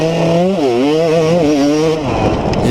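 A two-stroke dirt bike in a motocross race, its engine revving hard and close with a raspy wavering pitch that climbs and drops through the gears, loud and steady with no talk.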